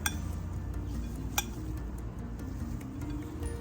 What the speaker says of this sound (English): from the bottom, just start stirring